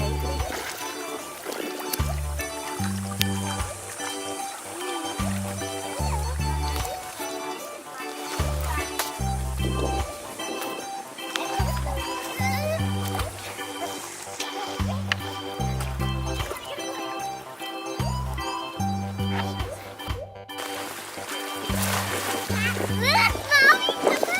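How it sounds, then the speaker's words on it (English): Kids splash about in a backyard swimming pool, water slapping and churning in irregular bursts under almost constant children's chatter and shouting, with a steady rhythmic musical beat running through. "we're letting the kids cool off in the pool while we cook today"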